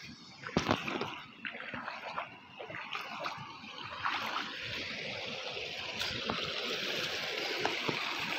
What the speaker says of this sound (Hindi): आज दिखा रहे हैं पूरा खेत के ऊपर से पानी जा रहा है यार।